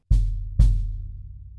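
Two deep bass drum hits damped by a handkerchief tucked against the head, each a short thud with a low, quickly choked tone and little ring, close and alone.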